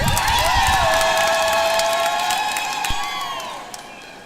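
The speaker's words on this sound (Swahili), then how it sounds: "Aya, makofi mengine." A large crowd at a Catholic church jubilee in Moshi applauds and cheers with high whoops and ululation, loud and sustained before tapering off, with no clear speech over it.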